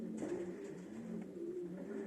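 Pigeons cooing at a loft, soft repeated low throaty coos in a rolling pattern, fairly close and quiet, with faint background noise and no voices.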